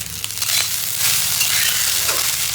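Food sizzling and frying in a pan while being stirred, a steady loud hiss with scraping stirring strokes close by and no talk.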